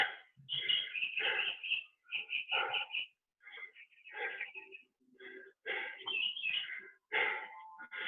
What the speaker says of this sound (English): Birds whistling to congratulate me being done.